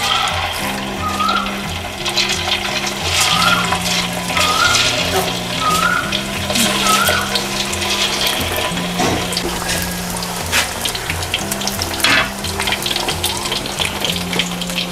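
Pieces of pork frying in hot oil in a home kitchen, a loud continuous sizzle and crackle throughout, with a low repeating hum and faint chirping tones underneath.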